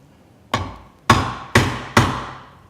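Four sharp, close hammer blows strike a Marples splitproof chisel cutting into wood, each a solid thwack with a short decaying ring.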